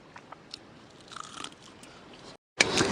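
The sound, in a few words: biting crispy homemade fried chicken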